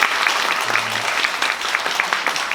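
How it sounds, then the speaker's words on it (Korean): Lecture audience at a Korean talk show event breaking into applause, a loud, dense and sustained burst of many hands clapping close by, with a brief low murmur partway through. "박수 한번 부탁드리겠습니다."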